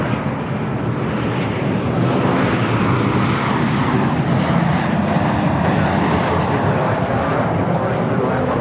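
A Delta airliner arriving at LAX gives off a loud, steady engine roar that holds throughout, close and broad.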